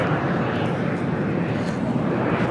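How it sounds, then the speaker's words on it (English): Asiana Airbus A380 pushing back at LAX: a continuous broadband jet engine roar, steady and fairly loud, with no clear talk over it. "Asiana A380 now pushing back"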